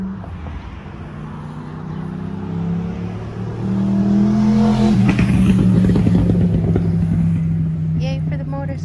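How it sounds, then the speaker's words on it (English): Several motorcycles pass nearby, their engines rising and falling in pitch as they swell to a loud roar and then fade, with talk faintly underneath. "Yay for the motorcycles."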